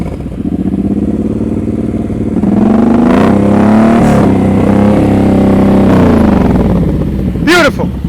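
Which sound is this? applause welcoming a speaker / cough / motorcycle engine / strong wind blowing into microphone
motorcycle engine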